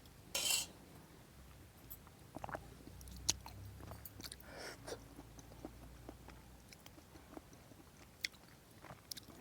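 Someone eats raw papaya curry with quiet, close chewing and mouth sounds, a few soft clinks of utensils, and one brief sharper knock near the start, all faint and with no speech.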